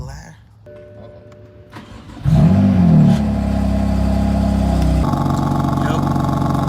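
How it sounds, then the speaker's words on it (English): A BMW M3 F80 engine starts with a loud catch and settles into a steady, slightly choppy idle close by, following a quieter stretch with faint tones. "These cars sound so nice at idle. Sound kind of choppy."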